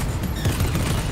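Distant gunfire in the video game Fortnite forms a dense, continuous rattle of overlapping shots over about a second, with no talking.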